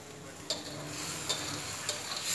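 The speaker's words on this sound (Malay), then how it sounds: "Kita tumis sampai harum dulu ya" Chicken spices stir-fry in a pan, a steady close sizzle with a few sharp scraping strokes of a spoon at regular intervals, no voices.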